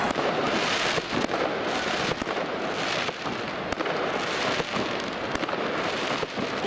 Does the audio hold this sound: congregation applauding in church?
no